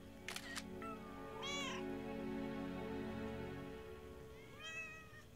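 A cat meows in a TV show, with several distinct rising-falling cries spaced out over a few seconds, clear and moderately close against a low background hum.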